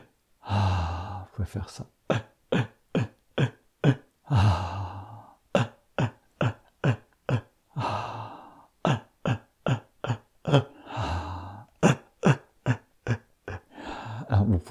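In a tantra yoga session, a person breathes in a rapid, rhythmic series of sharp, forceful exhalations through the nose. The pumping is broken by a few longer, slower breaths, and a voice speaks briefly.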